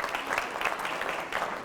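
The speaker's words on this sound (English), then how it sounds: "round of applause" A short burst of steady clapping from attendees at a county chamber executive breakfast, moderately loud and even throughout.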